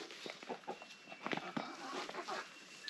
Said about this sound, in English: And these are all my older hens.